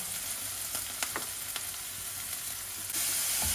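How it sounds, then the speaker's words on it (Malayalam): Onion and curry leaves frying in oil until browned, with a dense, steady sizzle and a few light stirring taps that swell louder near the end. "സബോള നന്നായി മൊരിയണം"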